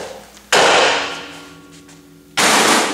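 Two sharp metallic hammer strikes on the steering knuckle of a Nissan Titan/Armada to free the lower ball joint, each a loud ringing clang with a long decaying tail, spaced about two seconds apart.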